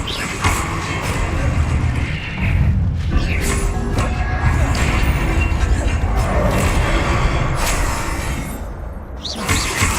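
A fiery Incendio spell bursts out in Hogwarts Legacy, a loud, dense roaring whoosh with crashing impacts sustained for several seconds, close and full, with faint voices beneath.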